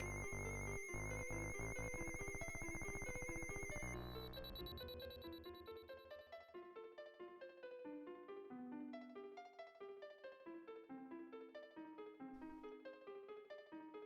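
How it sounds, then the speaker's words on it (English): Chiptune-style game music from Final Fantasy IV, the harp-like tune played by Edward, bright melodic notes in a steady rhythm after a sharp buzzing alarm-like opening, loud and alone with no talk. "Made a sound synchronizing the tune played by Edward."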